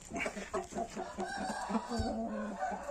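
Chickens clucking with a rooster crowing at a village, a steady run of short fowl calls close by, loud and continuous across the scene.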